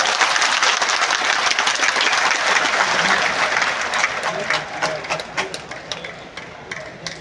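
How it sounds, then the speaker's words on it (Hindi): An audience at a large political rally claps loudly, a thick continuous roar of applause that holds strong before tapering into scattered claps toward the end. "जोर से ताली बजाइए।"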